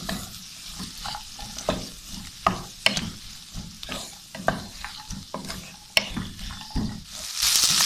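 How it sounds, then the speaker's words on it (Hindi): Three medium onions softening in a pan for a chicken salan, with a steady low sizzle and repeated scraping and clinking strokes of a spoon stirring them, close and clear with no talk. "अब हम इसमें डाल देते हैं प्याज। प्याज हमने ली है 3 दरमियानी डली। और इसको थोड़ा सा फ्राई कर लेते हैं"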